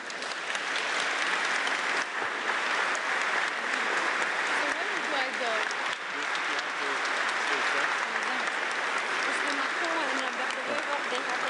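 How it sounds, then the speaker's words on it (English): Sustained audience applause greets the French president and the Belgian prime minister at an EU leaders' gathering in Antwerp, a broad steady roar of clapping with crowd murmur and voices mixed in. "Please give them an applause."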